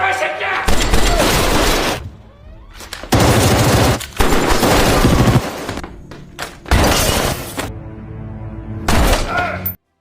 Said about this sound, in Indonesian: Sehingga terjadilah adu tembak antara kubu kepolisian dan kubu gangster.